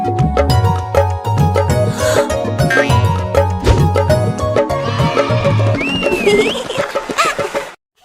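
A cartoon horse whinnies loudly over a bouncy nursery rhyme tune with music playing throughout, the high rising neigh standing out clearly near the end.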